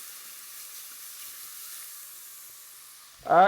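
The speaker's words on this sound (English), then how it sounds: "Next step is to release the fond from the bottom of the pan. So I'm supposed to put in red wine." A hot pan hisses steadily as red wine goes in to lift the browned fond for beef stew, a soft, even sizzle that swells into a louder surge at the end.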